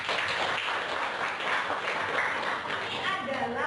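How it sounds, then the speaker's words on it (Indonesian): A class or school group gives a round of applause during an academic coaching session: a busy patter of clapping hands, fairly quiet overall, with voices mixed in and speech rising toward the end. "bagus sekali. Beri tepuk tangan."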